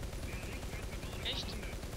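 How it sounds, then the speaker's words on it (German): Artillery in the War Thunder tank battle game booms amid dense gunfire, forming a steady, rumbling barrage that fills the whole stretch at moderate loudness. "Ne, ich glaube, das ist die Artillerie."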